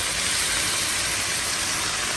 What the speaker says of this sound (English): throw it in the wok, let that bad boy sizzle for a few.